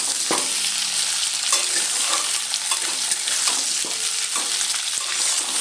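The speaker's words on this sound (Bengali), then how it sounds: "ভালো করে আমড়াগুলো আমি তেলের মধ্যে ভাজা ভাজা করে নেব" Hog plums (amra) fry in hot oil with a steady, bright sizzle, broken by scraping stir strokes every second or so. It is close and fairly loud, and no one speaks.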